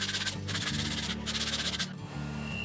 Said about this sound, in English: I start by sanding the edges using 80 grit and then 120 grit